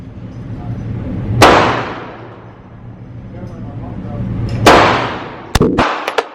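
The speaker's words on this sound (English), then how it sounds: "5 shots to the middle" Handgun shots fired at a target: loud, sharp, close reports, two spaced apart and then a quick pair, with some voice sound between them.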